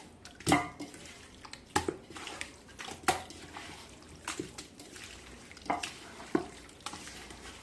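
Biryani being mixed in a pot with a spoon that is knocked against the vessel: several sharp, separate taps ring out at irregular intervals over soft stirring and a faint sizzle, with no talk.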